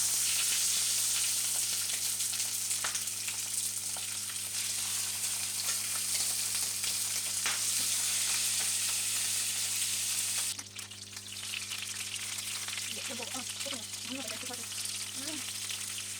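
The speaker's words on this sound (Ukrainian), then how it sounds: "Нагріваю сковорідку з олією і обсмажую на ній качини м'ясо до золотистості." Steady frying sizzle of duck meat in hot oil in a pan, close and continuous, with a faint low hum underneath and a slight drop in intensity partway through.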